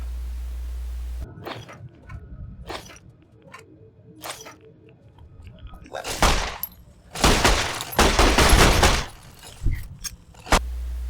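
Grenades in Fallout New Vegas go off against robots in a series of sharp bursts and booming blasts, scattered at first then clustering into loud, rumbling explosions near the end.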